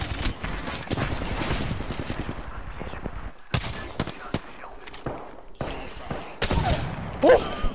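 Video game gunfire with shots hitting an enemy, sharp bursts and thuds scattered through the stretch with brief gaps, mixed with excited talk.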